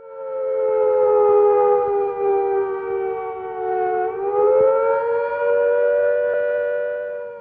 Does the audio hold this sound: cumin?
no